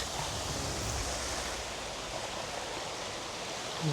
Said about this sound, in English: Waterfalls in Scotland.